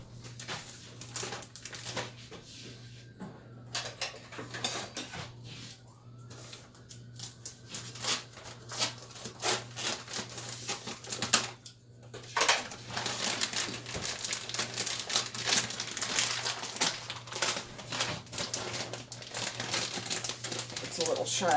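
A plastic bag of shredded cheese torn open and crinkled close by in a kitchen, with steady rustling and crackling under a low hum and some talking.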